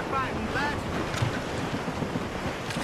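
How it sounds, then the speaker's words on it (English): Strong wind roaring over the open sea in Assassin's Creed Rogue, a steady loud gusting rush with waves and creaking of a sailing ship throughout, no voices. "Wind's getting vicious."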